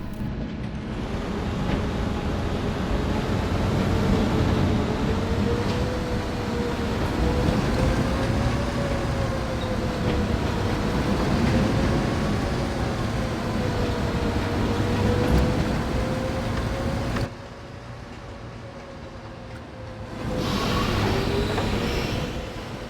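A flat ride runs in the theme park game Planet Coaster, a continuous loud mechanical rumble with a wavering whine that cycles up and down, dropping out briefly near the end before returning.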